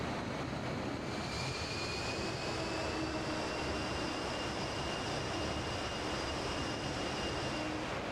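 Avro Vulcan jet engines in the MSFS2020 flight simulator give a steady, continuous howl with high whining tones over a broad roar, loud and unbroken throughout with no talking.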